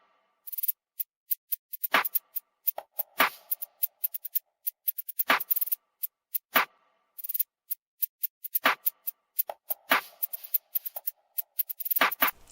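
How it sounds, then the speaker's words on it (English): Drum pattern for a beat made in FL Studio: crisp, rapid hi-hat rolls and sliding hats over sparse snappy snares and percussion hits, bouncy and dry, with no voices. "And altogether the drums sound like this."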